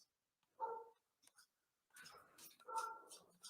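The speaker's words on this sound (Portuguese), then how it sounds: "E a gente ouve o latido lá do outro prédio." A dog barks faintly from another building, two short distant barks separated by a pause, with soft murmuring in between in an otherwise quiet space.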